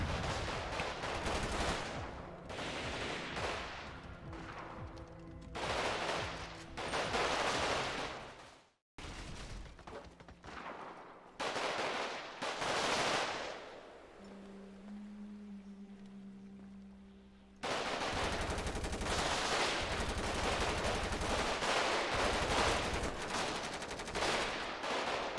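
Gunfire in GTA roleplay, with loud bursts of rapid automatic shots and single cracks, broken by short pauses and then sustained heavy firing near the end, close and dominant with no talk.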